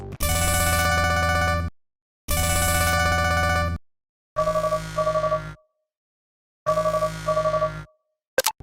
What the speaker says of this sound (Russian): Рингтон на телефоне стал также другим. Послушайте и сравните.